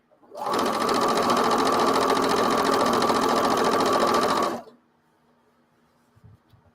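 A Swiss-made Elna sewing machine stitching at speed, a loud continuous whirring hum that starts abruptly, runs about four seconds and stops cleanly, followed by near silence.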